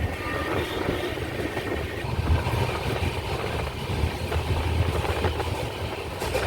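Island Express passenger train running alongside a road in Kerala, heard from on board: steady, dense rumble and rattle of wheels and carriages, continuous and moderately loud throughout, with no talk.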